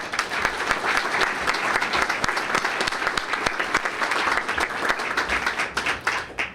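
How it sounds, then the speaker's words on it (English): City hall audience at a State of the City address giving a dense, steady round of clapping from many hands, fairly loud and sustained for several seconds, tapering slightly at the end. "So a round of applause for them."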